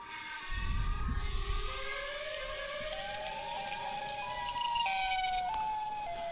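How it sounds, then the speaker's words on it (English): A wailing, siren-like tone slowly rising and stepping upward in pitch, eerie and droning, with a low rumble at the start. "Siren Head sound effect"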